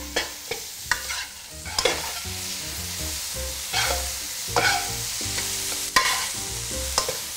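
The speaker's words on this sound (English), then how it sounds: "Then you stir fry until it's fully cooked." Minced duck with fish sauce, chili flakes and toasted rice powder sizzles in a hot pan for a Thai salad, with repeated scraping stirs and clacks of the spatula, close and loud, with no talking.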